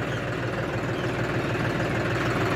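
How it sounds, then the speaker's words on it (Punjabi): A John Deere 5405 tractor in high gear on a road hauls a trolley loaded with 8000 bricks, its engine a constant, loud, low diesel drone throughout. "5405 ਰੋਡ ਦੇ ਉੱਤੇ ਦਬਦਾ ਟਰਾਲੀ ਲੈ ਕੇ ਵੱਡੇ ਗੇਅਰ ਦੇ ਵਿੱਚ"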